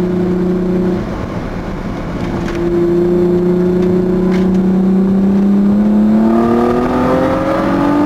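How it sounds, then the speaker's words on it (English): A Dodge SRT-6 revving with its supercharger engaged, a loud close engine whose steady tone drops briefly, then climbs as a rising whine sweeps upward over several seconds, with no voices. "Supercharger comes on. Supercharger does its thing"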